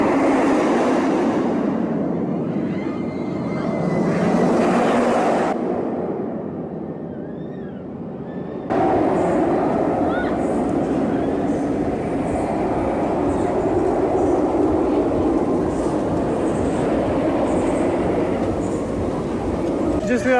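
Scream roller coaster train at Six Flags Magic Mountain rumbles along its track in the rain, a sustained loud roar that dips briefly midway and then returns, with a voice speaking over it.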